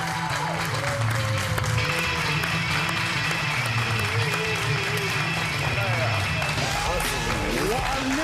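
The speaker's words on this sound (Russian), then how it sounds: "Ваши аплодисменты!" Studio audience in a Russian television studio show applauding to welcome a guest actor: dense, steady clapping throughout, with a voice and tonal background sounds layered over it.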